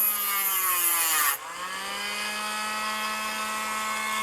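Tool scoring notches into a wooden baffle around the barrel of a Robart P47 model, a close, continuous high rasping whine with a rising and falling pitch.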